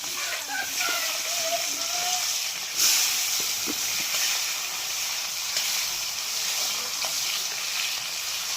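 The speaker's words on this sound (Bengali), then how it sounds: "তারপরে দিয়ে দিলাম তেজপাতা, তারপরে দিয়ে দিলাম পেঁয়াজ কুচি" Chopped onion, bay leaf, cardamom and garam masala sizzle steadily in a hot pan at home, a continuous bright hiss of frying with occasional small pops and stirring scrapes.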